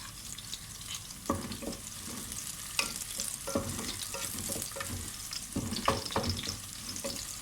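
Bay leaf and onion fry in ghee with a continuous soft sizzle while a spoon stirs them, giving repeated close scrapes and taps against the pan at an irregular pace.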